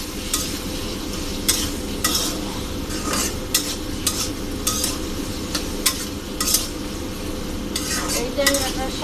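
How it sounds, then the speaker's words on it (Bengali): Tangra fish curry stirred and mixed in a pan: a continuous sizzle with repeated scraping strokes of a spatula against the metal, close and fairly loud. "এখন একটু নেড়ে চেড়ে"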